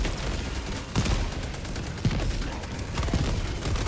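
Sustained video game gunfire, a loud continuous stream of rapid shots that forms a dense wall of noise, with a few heavier bursts standing out. No one talks.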